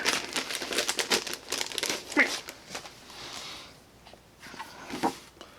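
Packing tape crinkles and rips as it is pulled off a package, close and fairly quiet, with scattered crackles and tugs over several seconds.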